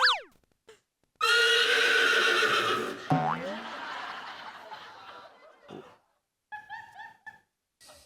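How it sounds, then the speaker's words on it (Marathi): A horse neighs loudly as a comic sound effect on a Marathi comedy show, with a sharp whinny at the start followed by a burst of loud, busy noise and scattered short sounds. "उधळलेला घोडा."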